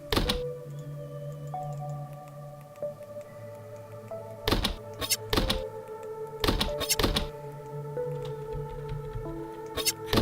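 Sword slashes in a small indie game-jam video game land as several sharp, loud thunking hits, some doubled, spaced irregularly over steady tonal game music.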